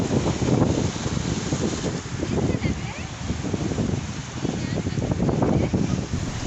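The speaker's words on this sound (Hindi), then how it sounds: "दरिया की जो लहरें थी उनकी आवाज़ इस कदर हसीन" Rushing river water and waves wash steadily, mixed with blustery wind buffeting the microphone, continuous throughout with no pause.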